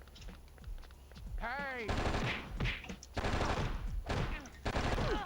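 Rapid automatic gunfire in the video game Oni comes in repeated bursts of sharp cracks over game sounds, with a voice speaking briefly amid the shooting.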